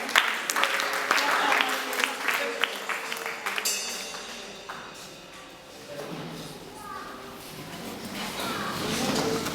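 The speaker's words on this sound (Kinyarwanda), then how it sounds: "Turagushimira tugukomera amashyi." A congregation claps at a church worship service in Mozambique. Brisk, scattered applause fills the first half and then thins out, with voices and tonal, musical sounds continuing underneath and afterward.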